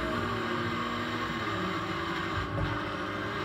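Racing car engine in the video game Grid 2, running rough with a faulty engine, a steady loud drone with wind-like noise throughout.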